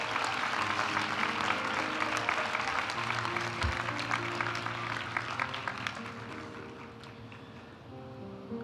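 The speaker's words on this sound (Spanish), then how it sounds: "aplaudimos a los graduados de la maestría en Dirección de la Comunicación Empresarial" Sustained applause from a graduation audience honouring master's program graduates at a university ceremony, dense, even clapping throughout, slowly fading a little toward the end.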